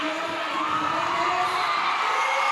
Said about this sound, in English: You can probably only just hear me over the crowd cheering